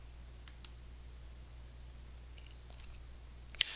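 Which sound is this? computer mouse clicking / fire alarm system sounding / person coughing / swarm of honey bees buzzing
computer mouse clicking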